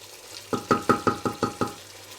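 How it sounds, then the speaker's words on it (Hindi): Chana kofta being stirred and fried in masala, seven evenly spaced knocking scrapes of a spoon against the pan, close and clear over a faint background sizzle. "बस इनको भूनना है"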